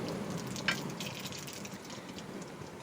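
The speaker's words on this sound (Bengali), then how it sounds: "শুকনো লঙ্কা আর একটু কালো জিরে ফোড়ন দিয়ে দিল তেলের মধ্যে।" Dried red chillies and black cumin tempering in hot oil for a rustic Bengali stem curry, giving a faint, steady sizzle and crackle close by with one brief sharper pop, no voices.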